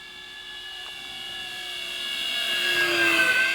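A KAVAN Norden 1600mm STOL radio-controlled plane on a 4S electric setup, flying low with a thin, high motor whine that grows steadily louder as it approaches over quiet open air.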